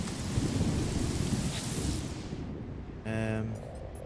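Storm weather in the No Man's Sky video game, with loud, steady rain noise and low thunder rumble that fades as the storm clears, followed by a short synthetic announcement voice.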